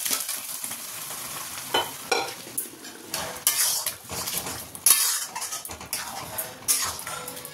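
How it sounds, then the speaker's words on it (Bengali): Dal is tipped into a sizzling tarka in a pan and stirred, with repeated sharp metal spoon scrapes and clanks against the pan over a continuous frying hiss. "এবার তরকার ডালটা দিয়ে দেবো এর মধ্যে"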